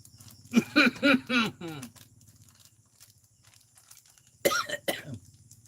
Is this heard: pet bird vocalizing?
no